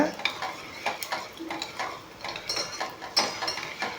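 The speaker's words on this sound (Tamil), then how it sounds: "இப்போ லைட்டாக நல்லா சிம்மில் வச்சுட்டு இதை நல்லா கலந்து விடுங்க" A spoon stirs homemade hair oil in a pan over a low flame, scraping and clinking against the metal in a steady, repeated rhythm, close and moderately loud, with a faint sizzle underneath and no talking.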